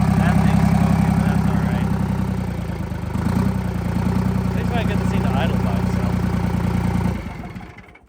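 A Detroit Diesel 3-53 two-stroke engine idling up close, a loud steady rapid throb with a brief dip before settling, then cutting off and fading near the end.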